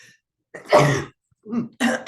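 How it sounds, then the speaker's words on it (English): A single sharp sneeze with a quick inhale before it, followed by brief breathy noises, close and fairly loud. "I'm going to sneeze."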